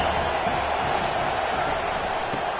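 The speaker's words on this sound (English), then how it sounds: "This crowd bringing the energy and noise early." A large crowd at a college football game between Ole Miss and FSU roars in a dense, continuous wash of stadium noise that holds steady and loud throughout, with no clear single voices.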